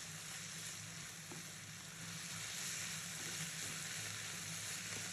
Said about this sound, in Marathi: सोया सॉस घालायचा. थोडं परतून घ्यायचं.